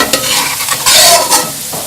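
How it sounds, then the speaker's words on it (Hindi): Carrots frying in ghee in a pan while being stirred, a loud close sizzle with scraping strokes of the spoon and bursts of crackle, no talking. "थोड़ा सा घी डालना है और इसमें आपने इसको फ्राई करना है"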